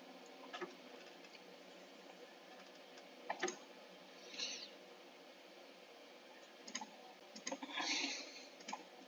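Computer keyboard keys tapped while entering an AutoCAD command, a few scattered soft clicks and short typing bursts, faint and close with low background hiss.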